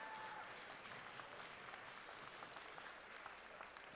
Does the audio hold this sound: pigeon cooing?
no